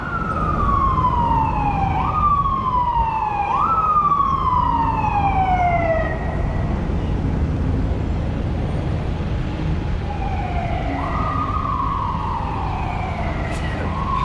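An ambulance-style emergency siren repeats a descending yelp in quick sweeps, fades in the middle, then returns for another cycle, loud and close over a constant low rumble.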